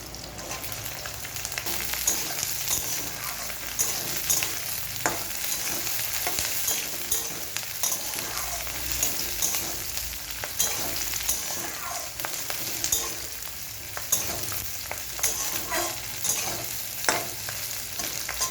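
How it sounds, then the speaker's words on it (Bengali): Onions with capsicum and slit green chilli stir-fried in a pan for an egg chilli dish, a steady close sizzle of frying with frequent scraping and stirring strokes throughout, no talking. "পেঁয়াজগুলোকে খুব বেশি ভাজবো না এবারে আমি দিয়ে দেব ক্যাপসিকাম আর একটু কাঁচা লঙ্কা চেরা"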